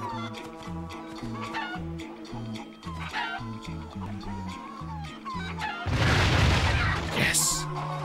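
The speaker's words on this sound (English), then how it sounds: "Yes! Chicken!" A chicken clucks repeatedly in Crash Twinsanity over bouncy game music, followed by a loud burst of noise near the end.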